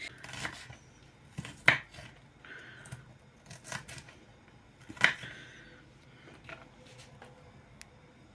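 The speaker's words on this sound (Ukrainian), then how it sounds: "Цибулечку ми нарізаємо на кубики." A knife chopping onion into cubes on a board, a few sharp, irregular cuts with quieter scraping between them and no talking.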